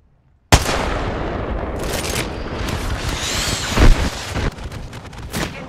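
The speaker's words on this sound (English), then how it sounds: "Getting shot at." Gunfire in the video game Apex Legends: after a brief silence, a loud sustained spray of rapid shots erupts and continues with sharp cracks and a heavier blast midway, with a short spoken line.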